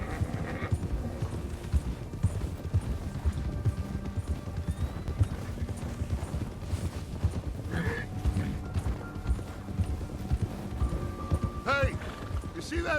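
Hooves clip-clop and pound steadily as horses gallop across open ground in the Western video game Red Dead Redemption, a busy layered rhythm with a brief whinny near the end.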